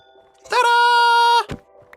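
A goat bleats once in the Minecraft video game while animals are being bred with wheat, a sustained harmonic cry of about one second, clear and close, followed by a short thump and faint game sounds.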